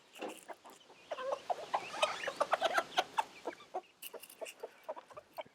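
Chickens cluck in a close, busy chorus of short calls while gathered around 5-grain scratch feed on the ground.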